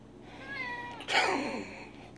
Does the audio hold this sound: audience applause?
no